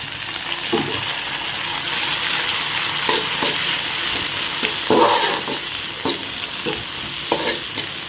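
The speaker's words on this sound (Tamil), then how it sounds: "இப்போ வந்து நம்ம வெட்டி வச்சுருக்க தக்காளி போட்டு போடணும்" Chopped tomatoes fry in a hot pan for a chapati side dish, a loud, continuous sizzle with repeated spoon scrapes and bursts of crackling as they are stirred.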